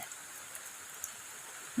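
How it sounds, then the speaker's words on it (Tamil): Heavy rain pours steadily as an even, continuous hiss with a few faint drips and taps, loud and unbroken with no voices over it. "பயங்கரமாக மழை பெஞ்சிட்டு இருக்குது"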